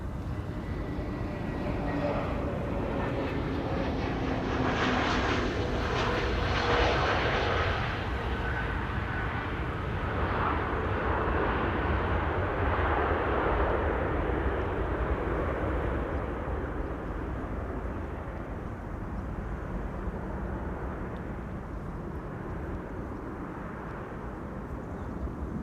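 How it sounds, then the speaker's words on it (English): A Transavia Airbus A321neo jet at Amsterdam Schiphol, a moderately distant engine rush that swells early and then fades to a low, steady rumble. "Feels like those A321neos from Transavia have been around forever already."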